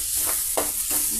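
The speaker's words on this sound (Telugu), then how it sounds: "ఈ విధంగా చక్కగా ఫ్రై అయిపోయిందండి మన బీరకాయ." Chopped ridge gourd with chili powder being fried and stirred in a pan, giving a steady close sizzle with several scraping stirs of a spatula, without any voices.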